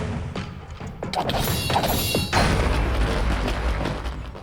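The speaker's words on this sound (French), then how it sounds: "il explose!" A Minecraft explosion in a modded game erupts as a loud, close crash and booming blast after a few sharp knocks, then trails off into a rumbling, noisy tail, with no talking.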